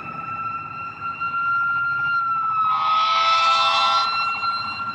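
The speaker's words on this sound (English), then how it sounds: "Fire department roaring down the street." A fire engine siren wails on a street near a highway car accident, a steady high tone that swells louder as the truck approaches and passes close by, over constant traffic rumble.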